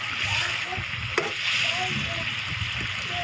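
Food frying in a pan after water has been poured in, giving a steady hissing sizzle with soft stirring and bubbling underneath and one brief clink partway through.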